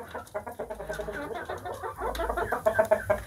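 Several Shamo chickens, including a black hen, cluck in a steady string of short calls, close by and fairly loud, with no talking.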